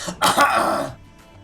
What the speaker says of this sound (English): Clear your throat, it'll get rid of the lag.